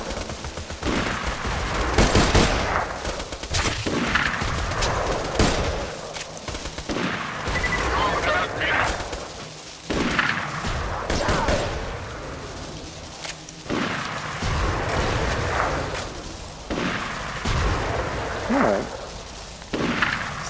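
Gunfire in Borderlands 2, including sniper rifle shots: sharp, loud reports and bursts go off repeatedly across the stretch amid explosions and battle noise, with some game speech underneath.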